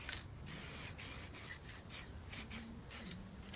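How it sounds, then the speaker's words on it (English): A spray can lays down metallic paint in a run of short hissing bursts with small gaps between passes, quiet and close, with no talking. "When you're spraying metallic, you always want to go the same way on each piece."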